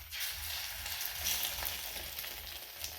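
Steady, busy sizzling of an egg-coated bread piece frying in a hot pan, a continuous crackle of fat with no talking over it.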